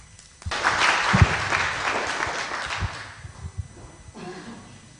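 An audience at a philosophy symposium bursts into applause that swells quickly, holds for a few seconds, then thins to scattered claps and fades.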